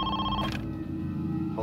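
Telephone ringing in a family home during a child kidnapping ransom case: one ringing burst that breaks off, then a fresh ring begins at the end, over a steady tonal background.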